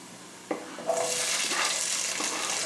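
Onion, celery and bell pepper hit a hot pan for jambalaya, a sudden loud sizzle that flares up with a brief clatter and then settles into steady frying hiss.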